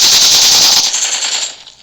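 Rapid automatic gunfire from the mobile battle royale game PUBG Mobile, a loud dense burst of shots lasting just under two seconds before cutting off abruptly.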